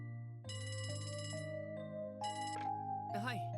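A telephone rings in the video game Trails from Zero, chiming electronic tones repeating in short bursts over steady background music, ending with a rising synth flourish.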